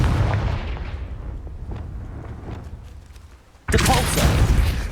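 Confringo explosive fire spell in the Hogwarts Legacy video game: a booming blast that decays over several seconds, followed by a second loud burst near the end, with no speech.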